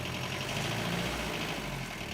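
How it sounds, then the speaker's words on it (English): A car engine from a Steins;Gate 0 visual novel scene gives a steady, low, rumbling drone that holds at an even level throughout, with no voices. "I could hear the sound of another car getting closer."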